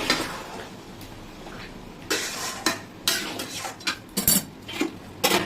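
Mutton is stirred and fried in a pan for curry, a spatula scraping and clinking irregularly against the metal over a low, steady background hiss, close by.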